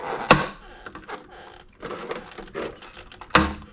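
A reamer works holes in a plastic RC car body, making short scratchy grinding bursts. Two sharp louder clicks or knocks stand out among them, all close and up front.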